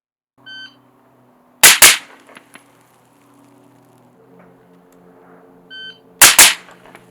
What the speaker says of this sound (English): you fire 2 rounds so fast that you maybe don't even see your sights on the second round